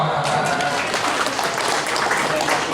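Audience at a Lazisnu Lampung Tengah working meeting and cadre gathering breaks into dense, sustained clapping that fills the room evenly, with some voices mixed in.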